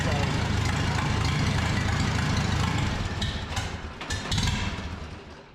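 1948 Farmall C tractor engine running after a wiring harness install, a steady close rumble that dips and stutters in the last seconds as if starving for fuel.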